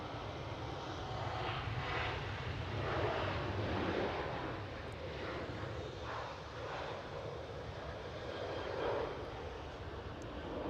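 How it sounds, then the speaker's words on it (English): Roaring jet engines of a KLM Boeing 737 departing Schiphol airport in Amsterdam, a loud, sustained broadband rumble heard from outside with a slowly swelling and fading tone and no talk. "KLM 737 departure."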